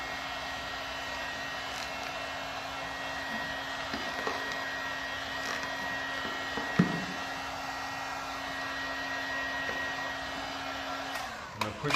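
Constant blowing whir of a heat gun warming vinyl wrap on a wheel face, steady and fairly quiet with a faint tonal hum, joined by a few soft taps and handling knocks.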